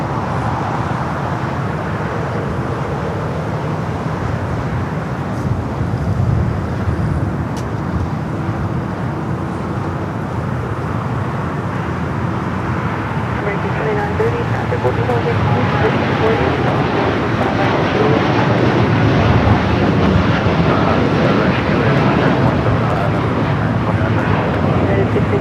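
A JSX ATR turboprop airplane passes at LAX airport, a steady broad engine roar that swells slightly toward the end, heard at a distance under continuous talk.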